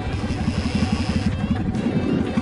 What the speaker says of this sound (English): Let's give this bike a quick listen.